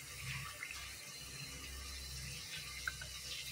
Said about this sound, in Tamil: நம்ம இனிமே இந்த தூளில் தேவையான அளவு தண்ணி ஊற்றி நம்ம கலந்து வச்சுக்கலாம்.